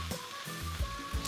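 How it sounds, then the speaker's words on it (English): Smoked lamb and potato hash frying undisturbed in a pan, a steady close sizzle and crackle with soft pops, heard alone. "That sizzling is the sound of a golden brown crust forming."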